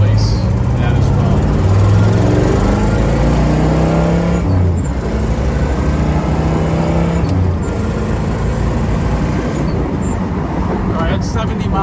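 Steady, loud V8 drone from a 1969 Buick GS400 convertible with a 4-speed and Stage 1 tune, rumbling continuously while cruising down the road, mixed with road and wind noise and no talking.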